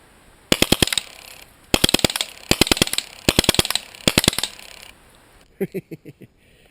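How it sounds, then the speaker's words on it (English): A stock Baikal Drozd Blackbird air gun fires repeated rapid bursts of about six sharp cracks each, loud and close, with short pauses between bursts, followed by a few duller clicks at the end. "6-round burst."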